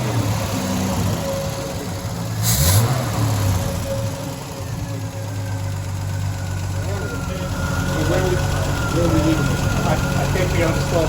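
A 1974 Triumph TR6 engine with backfiring issues runs at idle nearby with a steady rumble and rises briefly in a rev, while people talk over it in a workshop.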